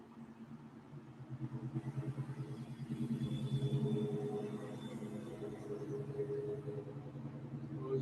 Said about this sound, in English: Old car. Good shape.